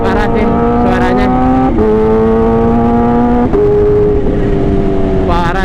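A Kawasaki H2 motorcycle engine revs loud and close with a steady strong harmonic drone, then the throttle is blipped and the pitch steps up and down before dropping back as the throttle is released.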